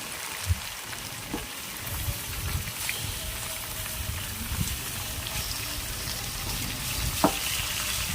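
Pieces of fish frying in hot oil with onions in a pan for a fish curry, a steady soft sizzle with occasional pops and clinks of utensils, fairly constant and moderately quiet, no talking.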